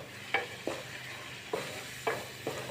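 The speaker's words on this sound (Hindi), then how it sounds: "ये इसमें शामिल कर लेते हैं और इसको भून लेते हैं मसाले को" Ground coriander, turmeric and red chili roast in a pan for a fish curry masala, with about five spaced spatula scrapes over a low, faint sizzle and no talk.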